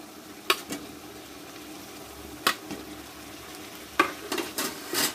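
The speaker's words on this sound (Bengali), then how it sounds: "এতে তাহলে আলুর মধ্যে পুরো মশলাটা ঢুকবে। দিয়ে আমি আরও কিছুক্ষণ কষাবো।" Fried potato pieces are stirred into spice masala in a pan, with a steady sizzle broken by several sharp scrapes and clacks of a spoon against the pan.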